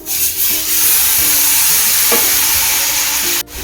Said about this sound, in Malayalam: ഇനി നമുക്ക് തോരൻ പിന്നെ അരിഞ്ഞു വെച്ചിട്ടുള്ള ഇലകൾ ഇട്ട് കൊടുക്കാം